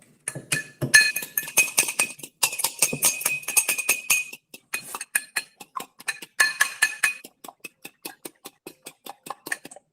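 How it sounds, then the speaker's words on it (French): A fork clinks rapidly against the inside of a glass while mixing ingredients for choux with chantilly, giving a steady, close run of bright metallic taps that slows briefly and then picks up again. "Dans un verre. Mélanger avec la fourchette."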